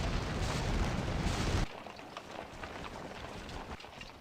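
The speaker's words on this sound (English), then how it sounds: "Firing into the enemy flank with artillery is incredibly effective" Massed artillery fire in a Napoleonic Waterloo battle game: a loud, dense roar of cannon fire for about a second and a half, then it cuts back to a lower, rumbling crackle of distant battle.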